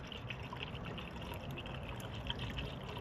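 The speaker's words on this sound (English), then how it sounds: "we're going to go ahead and top off our coolant with some water wetter" Coolant mixed with Water Wetter being poured into a Camaro LT1: a continuous soft trickling, gurgling flow of liquid, steady and moderately quiet throughout, no voices.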